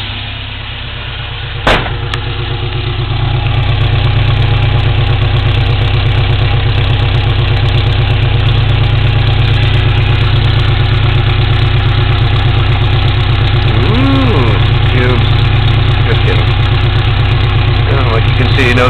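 A Toyota engine idles steadily with a replaced stabilizer, a loud, even low rumble that holds constant throughout after a brief knock near the start.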